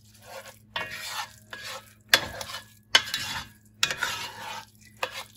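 Crushed tomatoes go into a pot of spaghetti sauce and are stirred, with wet scraping and clinking strokes of the spoon against the pot in bursts, over a soft sizzle, close up.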